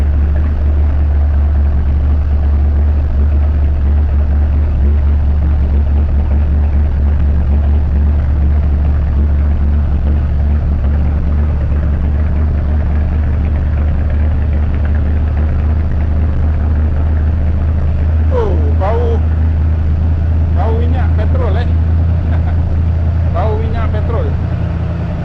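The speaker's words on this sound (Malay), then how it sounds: "itu dia bunyi yang asli daripada kereta V8 bunyi asli kereta V8" A 1980 Chevrolet Corvette C3 V8 engine idles, producing a steady deep rumble that runs throughout, with a voice speaking over it near the end.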